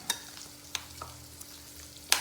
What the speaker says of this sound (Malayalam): ഇതിനെ വീണ്ടും നന്നായി മിക്സ് ചെയ്തെടുക്കാം.